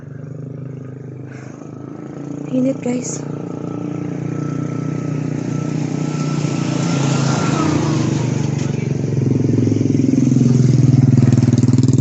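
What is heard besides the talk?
motorcycle engine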